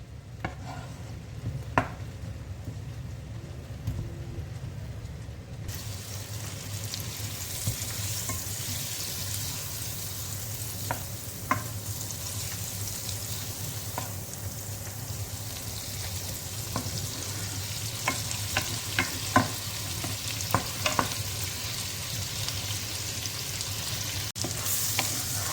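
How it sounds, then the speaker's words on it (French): Butter melting in a pan while onions fry alongside, a dense steady sizzle throughout with scattered clicks and stirring scrapes, close and fairly loud, no voices. "je fais fondre le beurre tout en faisant cuire les oignons"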